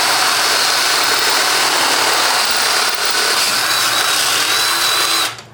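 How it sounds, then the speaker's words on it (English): A power drill whines steadily and loudly for about five seconds while boring 5/16-inch holes in a metal muffler flange, cutting off abruptly at the end. "I guess a sharp drill wouldn't hurt either."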